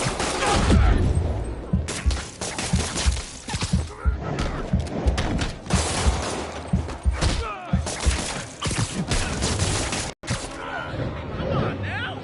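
Rapid bursts of enemy gunfire in Marvel's Spider-Man, dense cracks and thuds packed with game action sounds and shouted voices over a loud, busy mix.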